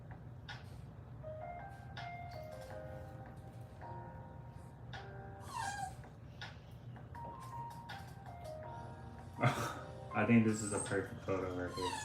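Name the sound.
dog whimpering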